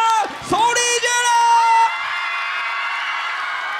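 Audience at a disability-awareness performance at a girls' high school cheering and shouting loudly, whoops and yells rising over the crowd, then a sustained roar of voices.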